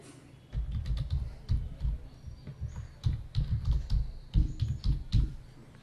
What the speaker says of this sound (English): So let me put my email.